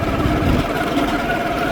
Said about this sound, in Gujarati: બાઇકનો અવાજ કેવો જોરદાર આવેલો.